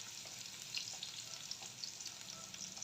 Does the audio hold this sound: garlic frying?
yes